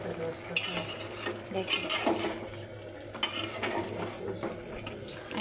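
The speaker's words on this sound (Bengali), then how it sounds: "এটা সুন্দর করে আমি কষাই নেব।" Chicken, about one and a half kilos, is sautéed with raw onion in a pan, giving soft sizzling under repeated scraping and clinking of a spoon against the metal, with a brief word spoken.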